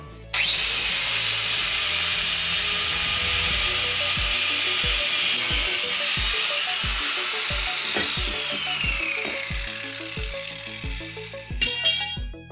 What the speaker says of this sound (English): I think I'm gonna be able to just cut this bracket off right here at the fold, at the bend